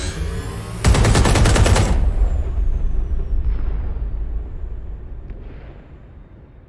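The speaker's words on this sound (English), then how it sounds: "a series of explosions devastated 3 sites in London" Explosions in London in the video game Watch Dogs: Legion: a sudden loud blast bursts in with a dense, crackling roar, then rumbles and fades slowly over several seconds with faint debris sounds.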